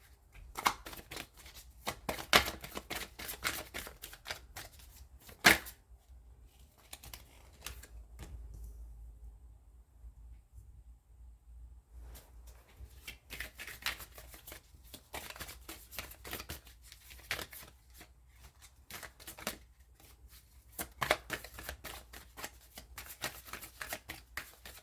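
Tarot cards shuffled in close, repeated bursts of riffling and slapping, broken by a quiet pause mid-clip before the shuffling resumes.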